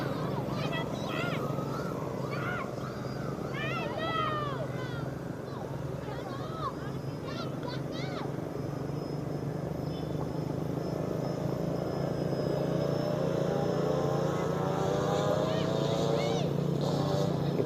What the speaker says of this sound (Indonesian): Saya pengen lihat pesawat trainer oleng seperti ini.